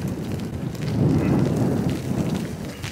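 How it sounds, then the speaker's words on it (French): Wind rising and rain starting to fall on an early morning at a European tour golf event, a dense, steady hiss and patter that swells in the middle, with no talking. "le vent se lève et la pluie commence à bien tomber"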